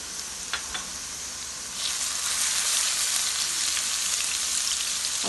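Onions browned to golden, with garlic just added, sizzle in a pan; a soft hiss with a couple of light clicks swells into a louder, steady frying crackle partway through, heard up close with no talking.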